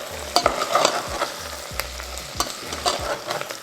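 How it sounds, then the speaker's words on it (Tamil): Onion, tomato, garlic and curry leaves fry in oil, a steady close sizzle with repeated scraping stirs every half second or so, no voices. "இன்னும் அந்த பொரியிற சவுண்ட் அப்படியே நல்லா சலசலன்னு கேட்குது"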